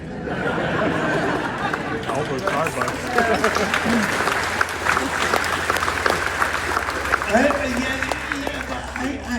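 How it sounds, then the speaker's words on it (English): Applause from a convention panel audience at WASummerCon 2022, moderate clapping spread across the room and blended with crowd chatter and scattered laughter, with a voice speaking over it toward the end. "I suppose that was worthy of a little applause"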